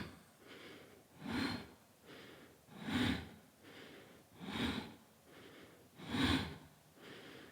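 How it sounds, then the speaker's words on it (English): Heavy rhythmic breathing during a power yoga flow, five strong, close exhales or sniffs spaced about every second and a half, with softer inhales between them in a quiet room. "Maybe you can hear my breathing."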